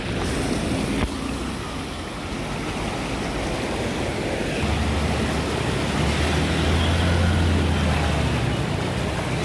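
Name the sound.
strong floodwater flowing across road in heavy rain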